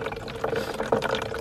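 Water pours into a bottle at a scarce mountain spring in the Polish mountains, a close gurgling fill rising in bursts over about a second and a half.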